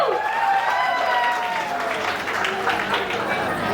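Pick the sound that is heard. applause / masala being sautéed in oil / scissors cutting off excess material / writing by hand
applause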